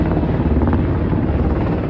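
Military helicopter flying over South Korea, a loud, continuous rotor thrum with heavy low rumble, close and steady throughout with no voices on top.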